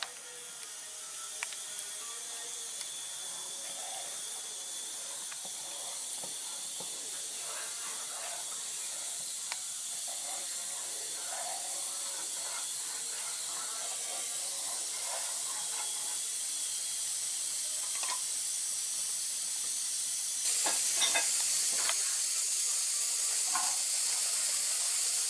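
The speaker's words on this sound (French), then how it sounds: "Après, on met le foie, il cuit en même temps dans la petite sauce." Marinated liver simmering in a small sauce for kebda mchermla, giving a soft steady hiss and gentle bubbling that swells slightly near the end, faint and continuous with no speech.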